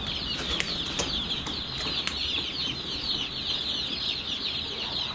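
Freedom Ranger chicks in a brooder give dense, continuous high peeping at moderate level, with a few sharper chirps standing out from the flock.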